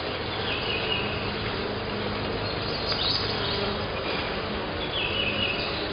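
Honeybees buzz steadily and densely around an open hive during a swarm inspection, a close, continuous drone of many wings, no voices heard.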